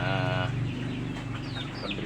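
Broiler chickens clucking close by, a loud harmonic squawk at first, then busy overlapping clucks and chirps against a steady farmyard hum.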